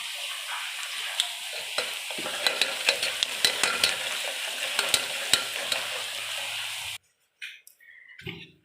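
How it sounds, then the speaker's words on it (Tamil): Onions sautéed in a pan sizzle loudly and steadily as turmeric and asafoetida go in, with sharp clicks of stirring over the frying, then the sizzle cuts off abruptly, leaving a few faint scrapes. "வெங்காயம் நல்லா வதங்கினதுக்கப்புறமா கொஞ்சமாக மஞ்சத்தூள், தேவையான அளவு பெருங்காயத்தூள் போட போகிறோம்"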